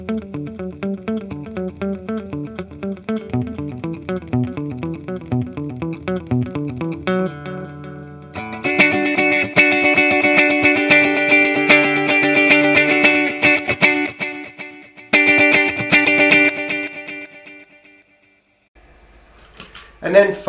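An electric guitar plays through a Nux Atlantic pedal set to a dotted eighth digital delay, its picked notes repeating in rhythmic echoes, then louder distorted strummed chords with trailing repeats, ending on a brief low rumble and a final attack.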